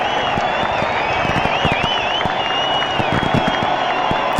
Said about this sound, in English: cheering on their hometown